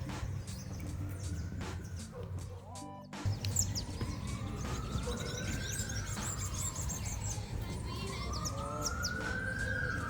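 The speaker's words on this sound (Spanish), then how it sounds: "La ambulancia me salvó del copyright." An ambulance siren wails, rising and falling steadily in the distance, sustained over a busy outdoor background with faint bird chirps.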